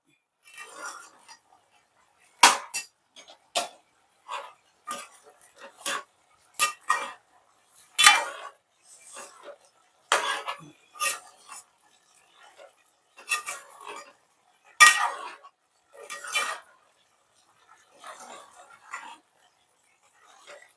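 Beef curry with chilli powder and salt is stirred in a metal pan, a utensil scraping and clinking against the pot in irregular bursts, fairly close and with no talking.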